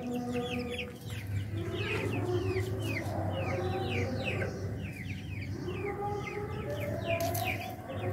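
Chickens cluck on a village poultry farm in Bogalur, with a dense, continuous chorus of clucks and chirps and an occasional rooster crow, steady and fairly close, with a low hum underneath and no talking.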